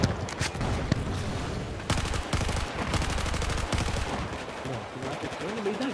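Battlefield 4 Domination match gunfire: rapid automatic bursts and overlapping shots crackle continuously at close range, with scattered impacts and sporadic talk mixed beneath the firefight.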